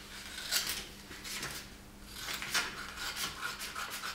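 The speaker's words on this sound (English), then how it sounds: "for the rest, I can go with my pair of scissors." Scissors snipping through fabric in a few close, rasping strokes, with short pauses between cuts and no talking.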